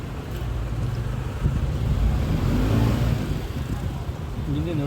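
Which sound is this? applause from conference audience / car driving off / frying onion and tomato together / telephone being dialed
car driving off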